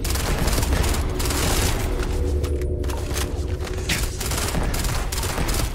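Continuous rapid automatic fire from an AK-74 mod rifle in Starfield, dense and loud, with a brief pause midway before the burst resumes.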